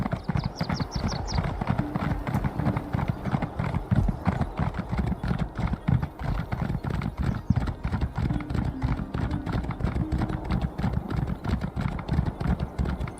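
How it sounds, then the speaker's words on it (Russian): Horse hooves clip-clop steadily in The Elder Scrolls Online, a loud, regular trot running the whole time over a low game music bed, with a brief whinny near the start. "лошадка. Тык-тык-тык-тык."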